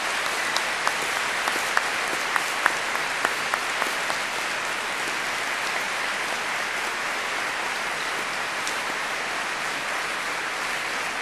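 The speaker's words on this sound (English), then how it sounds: "giving them an enthusiastic round of applause." Enthusiastic applause from a large audience at a university graduation ceremony, a sustained, even roar of many hands clapping with a few sharper individual claps standing out near the start.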